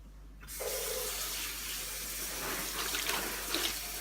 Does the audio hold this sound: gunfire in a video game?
no